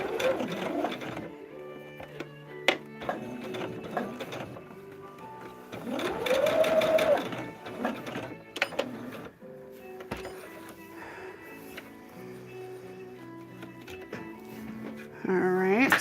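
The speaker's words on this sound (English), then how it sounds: "we're going to go ahead and restitch that section closed" A sewing machine runs in bursts while restitching the seam of a table runner, a rapid mechanical whir with starts and stops, a voice speaking over parts of it.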